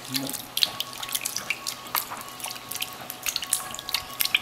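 Purple forbidden rice and red quinoa are rinsed under tap water in a sink, with splashy running water, irregular drips and small swishing bursts at close range and no voices.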